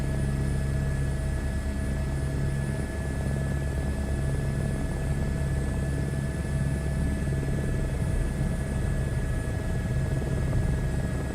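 An H125 helicopter hovers in a flight simulator game, its rotor and turbine holding a loud, steady drone with a constant whine throughout.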